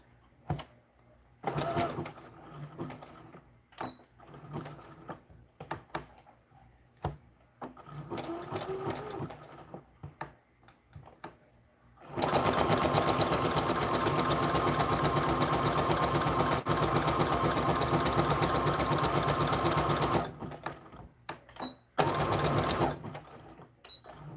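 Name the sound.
sewing machine zigzag stitching doll skirt panel edges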